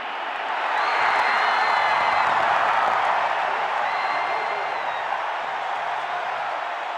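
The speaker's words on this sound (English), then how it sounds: "So the Tiger Stadium crowd exults in the miss" Tiger Stadium football crowd at LSU against Alabama in 1985 roaring after a missed field goal; a sustained, dense cheer that swells in the first second and holds loud, with occasional whistles above the din.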